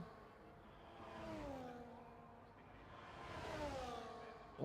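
F1 24 race cars on a straight during an overtake, engines whining and rising in pitch as they pass, faint and somewhat distant, swelling twice and fading.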